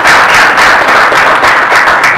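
Loud, close applause from an audience at a press event for a rapper, a dense, even roar of clapping that fills the whole moment.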